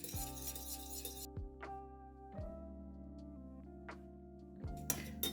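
Scent being stirred into melted, whipped wax for an orange cinnamon candle: light, irregular clinks of a utensil against the container, each brief, over steady sustained music.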